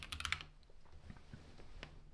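Keys clack on a mechanical keyboard with Cherry Brown switches, a quick burst of several close strokes followed by a few sparse, softer taps at a quiet level.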